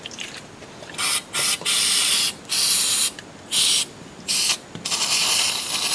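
An aerosol can sprays into a stalled lawn mower in several hissing bursts of varying length, loud and close, separated by short pauses, with a longer continuous spray at the end.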